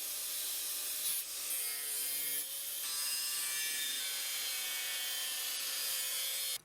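Angle grinder scoring bend lines and cutting metal sheet for a school bus conversion, a continuous bright abrasive hiss and whine running steadily and loud throughout, with slight shifts in pitch as the disc bites.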